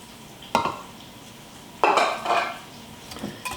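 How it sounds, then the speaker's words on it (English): Cornbread batter with added milk and oil being stirred in a bowl, giving a few separate scraping clinks of a utensil against the dish with short pauses between them, close and alone. "And we'll give that a good"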